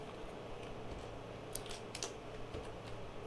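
Keys on a worn computer keyboard are typed in a few faint, scattered clicks over a quiet background, with no one talking.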